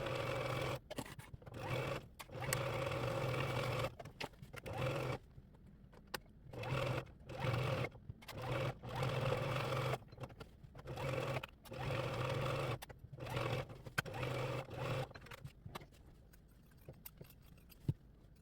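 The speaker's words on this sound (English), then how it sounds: "I'm gonna put this on my sewing machine" A sewing machine stitches an envelope pillow in bursts, running steadily then stopping briefly and starting again over and over, close and fairly loud with no talking.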